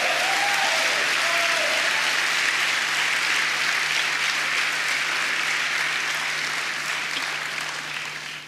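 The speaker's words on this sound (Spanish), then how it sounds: "Den un aplauso al que vive" Sustained applause fills a church worship service, a large congregation clapping steadily and loudly throughout before tapering slightly at the very end.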